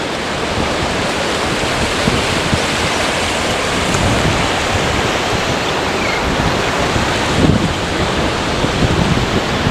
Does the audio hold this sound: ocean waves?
yes